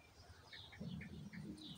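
A small blackbird calls in a vegetable garden with faint, short chirps repeated a few times and a soft low cooing underneath, all quiet and a little distant.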